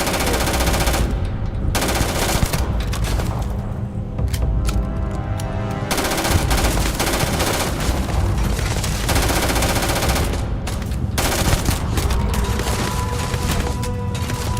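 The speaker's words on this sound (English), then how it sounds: "how are you shooting at me?" Gunfire in the space sci-fi video game Starfield, loud, dense bursts of rapid automatic shots and impacts rattling continuously with brief gaps, close and dominant throughout.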